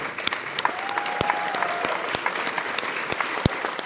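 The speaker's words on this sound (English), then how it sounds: "Another round of applause for this." Audience at a horror convention panel with Jason Voorhees actors bursts into applause, a dense field of claps with sharp louder individual claps standing out near the microphone, lasting several seconds.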